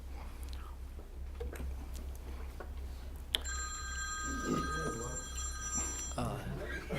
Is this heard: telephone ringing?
yes